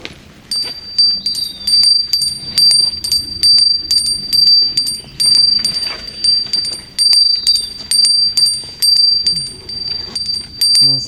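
A small handheld bell rung repeatedly during a spiritual workshop, bright metallic jingling strokes in a quick, uneven rhythm, close and fairly loud, heard alone without talk.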